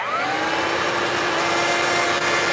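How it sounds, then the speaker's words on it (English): Steady, loud whir of a Kenmore or Hoover vacuum cleaner motor running with its brush, a constant broadband roar with a faint rising pitch at the start. "Then the first sound you hear is just the motor turning on."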